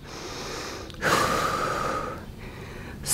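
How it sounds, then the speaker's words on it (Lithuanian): Deep, forceful breaths during a home fitness workout: a long audible inhale or gasp followed by a sustained exhale, close and alone with no talking. "Giliai kvėpuojame."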